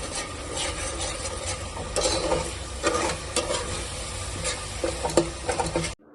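Ginger-garlic paste frying in a pan for goat curry, a continuous close sizzle with rhythmic scraping and stirring strokes, no talk.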